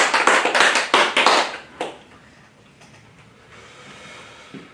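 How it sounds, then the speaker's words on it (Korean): A church congregation claps together in a burst of loud, dense applause at a New Year's Eve service. The clapping fades out after about two seconds, leaving quiet room tone. "하나님께 영광의 박수를 돌리겠습니다"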